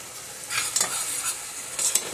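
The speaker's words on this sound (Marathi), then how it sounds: "बेसन पीठ मेन चांगलं याला फ्राय करून घ्यायचं" Gram flour (besan) frying and being stirred in a pan for Sindhi kadhi, a soft continuous sizzle with scraping stir strokes recurring every second or so, close and moderately loud with no voices.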